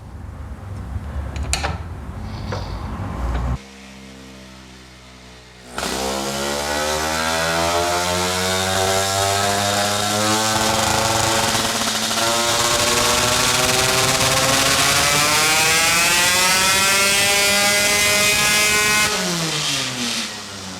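A racing Vespa two-stroke engine, ignition set at 22 degrees before top dead centre, runs on a test bench with a loud, high, buzzing wail that rises steadily through the revs after a brief idle, with no talking.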